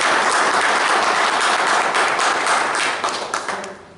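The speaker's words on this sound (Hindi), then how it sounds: "एक बार जोरदार ताली सर की" Loud, dense audience applause at a motivational business seminar in a hall, sustained clapping that tapers off toward the end, no talk.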